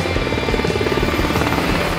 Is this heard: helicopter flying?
yes